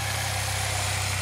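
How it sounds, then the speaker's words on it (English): Saab 9-3 2.0t engine, its throttle body just cleaned, running at a steady, even idle with low rhythmic pulsing, close and moderately quiet. "now we're starting to come down to an idle"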